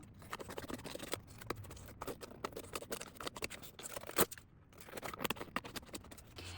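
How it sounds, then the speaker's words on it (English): Scissors trim the excess from a book page laid over a cardboard junk journal cover, giving a run of quiet, close, rhythmic snips and scrapes with no talking. "I'm gonna cut off the excess"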